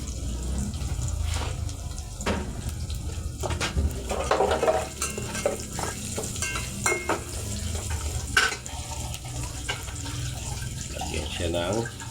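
Ginger goes into a hot pan for tinolang manok, with a soft sizzle under clinks of a utensil stirring against the pan and scattered clatter, while a person talks nearby throughout.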